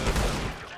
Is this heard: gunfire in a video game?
yes